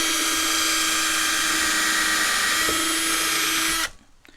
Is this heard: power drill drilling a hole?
yes